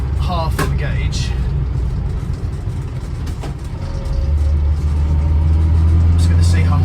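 An Austin Allegro drives along a local road, its engine drone steady and near with road noise, the hum deepening and growing louder toward the end.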